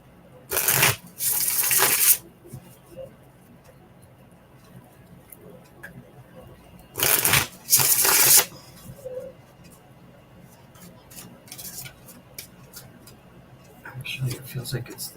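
Tarot cards shuffled in two crisp riffle bursts a few seconds apart, close and loud, followed by softer card handling and light rustling; a voice talks quietly in the background.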